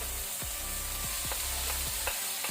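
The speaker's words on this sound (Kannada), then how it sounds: "ಇದನ್ನು ಸ್ವಲ್ಪ ಫ್ರೈ ಮಾಡ್ಕೊಳ್ಳುವ, ಹಸಿ ವಾಸನೆ ಹೋಗೋ ತನಕ" Bean sprouts palya with tomato frying in a pan with repeated stirring: steady sizzle throughout, punctuated by several scraping spoon strokes at an uneven rhythm, close and moderately loud with no voices.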